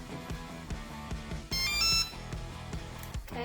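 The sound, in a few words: RC car ESC ready signal beeps when remote turned on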